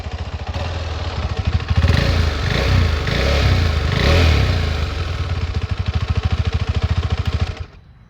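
KTM 390 Adventure single-cylinder motorcycle exhaust, close and loud, throbbing idle rising into several blips of revving before dropping off sharply at the end.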